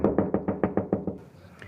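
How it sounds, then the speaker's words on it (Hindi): Someone knocks on a door in a Hindi horror story: eight sharp, evenly spaced raps in a quick, steady rhythm, close and fairly loud, then quiet faint room tone at the end. "उनका दरवाज़ा किसी ने खटखटाया"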